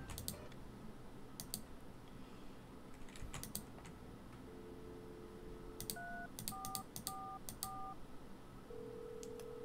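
Touch-tone telephone dialing in the video game Thimbleweed Park, a string of short beeping tones tapped out over soft clicking and a quiet background drone, with no talk.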